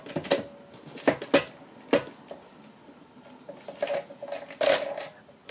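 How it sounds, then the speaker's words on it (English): The crank of a vintage mechanical adding machine turns anti-clockwise, giving a series of sharp metallic clacks and ratchet clicks, about six or seven separate bursts at irregular intervals with quiet gaps between them. "With the crank, you don't turn it clockwise, you turn it anti-clockwise."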